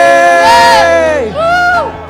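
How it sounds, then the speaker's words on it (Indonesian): A church congregation during Sunday worship cheers "yay" in two loud, rising and falling crowd shouts, the second one shorter. "GBI Double C sorakan yeay."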